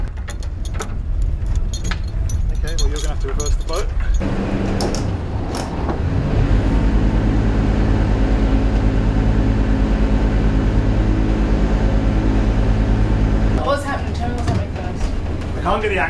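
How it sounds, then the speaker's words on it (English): A sailboat's engine run in reverse while anchoring, a steady low mechanical drone holding for several seconds, with people talking before and after it. "you're going to have to reverse the boat."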